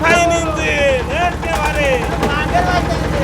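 A running engine at a market stall for used engines, shallow-pump sets and generators gives off a steady low rhythmic chug, close and loud, with people talking over it throughout.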